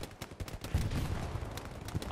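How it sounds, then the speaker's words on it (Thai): In the WWII shooter game Hell Let Loose, machine gun fire rattles in quick, uneven bursts at a moderate distance, mixed with scattered gunshots and low rumbling. "เสียงปืนกล"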